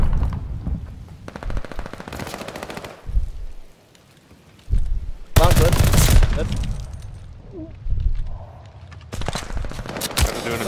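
First-person shooter gunfire: bursts of automatic fire rattle in several loud stretches, separated by quieter gaps, while players talk to each other over the shooting.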